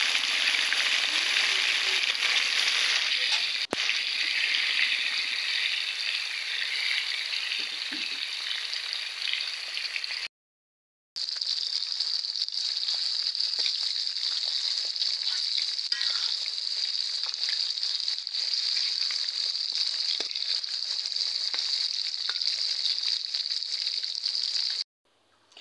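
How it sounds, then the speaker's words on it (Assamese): Fish frying in hot oil during a home Assamese cooking session, a steady loud sizzle with a brief pause partway through, then the sizzling resumes and continues at the same level, with no voices. "এয়া মই মাছখিনি ফ্ৰাই কৰি লৈছোঁ। এনেকৈ মই গোটেইখিনি ফ্ৰাই কৰি ল'ম।"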